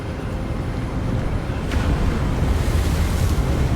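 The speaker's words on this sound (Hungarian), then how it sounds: "Nagyon fúj a szél." Strong wind blowing across an open outdoor scene in a Harry Potter video game, a steady broadband rush that holds loud and even throughout, swelling slightly in the second half, with no voices.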